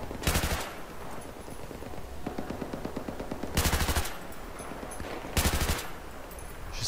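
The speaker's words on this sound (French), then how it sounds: "Je sais pas sur quoi je tire." Gunfire in the video game Battlefield 3: loud automatic bursts come in three separate volleys, with lighter shots and rattling between them and no speech over them.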